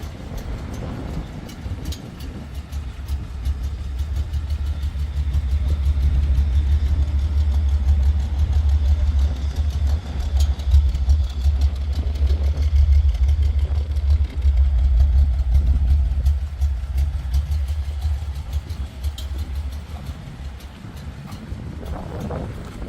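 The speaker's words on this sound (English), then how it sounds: "Car is running." A 1971 Datsun 280Z idles outdoors with a steady low rumble, close and even for the whole stretch, with some wind buffeting and no talk.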